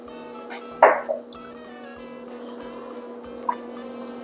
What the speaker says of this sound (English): Okay, so I'm gonna squeeze my lime now.